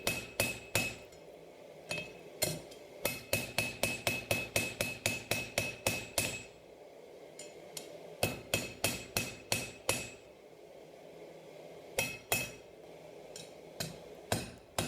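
Rapid runs of sharp, ringing hammer blows from a 32-ounce hammer straighten a hot forged knife spine on an anvil, falling in quick rhythmic bursts separated by short pauses.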